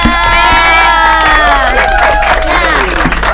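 An audience at an Indonesian podcast recording cheers for a guest, loud overlapping shouts and whoops with some clapping mixed in, close and sustained.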